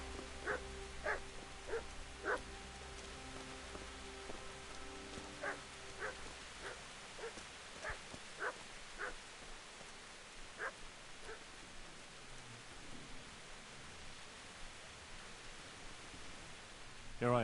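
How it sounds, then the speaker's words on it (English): A dog barks in a medieval role-playing game, several sharp barks in an irregular run early on, then fainter yips and whimpers over quiet ambient background. "I thought that dog was dead"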